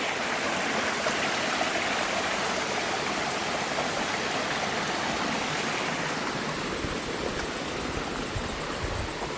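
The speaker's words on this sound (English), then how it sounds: "Great little cascade through here." A small waterfall cascades along a stream on a forest trail in Pachaug State Forest on the Narragansett Trail, giving a steady, close, full rushing roar of water that never pauses, with no voices.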